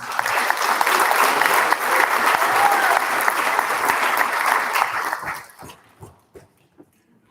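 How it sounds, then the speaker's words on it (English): Audience at a National Junior Honor Society induction ceremony gives sustained, full applause for about five seconds, then it thins out into a few scattered last claps and fades to near silence. "once again, let's give one last big round of applause to the inductees"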